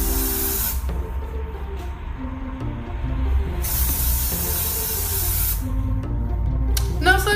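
Two long hissing bursts of aerosol spray, close and steady, with a short gap between them, over a low background hum.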